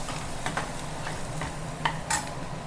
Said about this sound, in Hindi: और अब मैं इसमें डालूंगी बारीक चॉप किया हुआ लहसुन